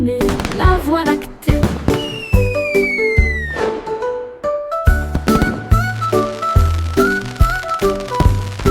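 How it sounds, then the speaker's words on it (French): Fireworks burst in a rapid string of sharp cracks and booms, loud and close, with a rising whistle partway through and crackling tails between bangs. "Les feux d'artifice de Jack ont illuminé la voie lactée."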